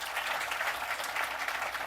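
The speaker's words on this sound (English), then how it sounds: "I want to give him a huge round of applause." Distant, steady applause from an audience at a New York governor's announcement event honoring Northwell Health's CEO, a continuous soft wash of many hands clapping.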